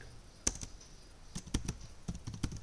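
Computer keyboard typing in short, sparse bursts of key clicks, close and moderately loud against faint room noise, no talking.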